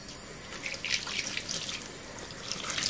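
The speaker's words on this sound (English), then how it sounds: "A little bit of warm water." Warm water runs from a tap during a Ford Cortina Mk3 restoration, a steady close hiss of flowing water with small splashy variations that lasts throughout, with no voices.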